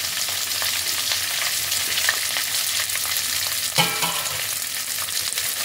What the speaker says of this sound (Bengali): এই সব কিছুকে তেলের মধ্যে খানিকক্ষণ একটু সতে করে নেব।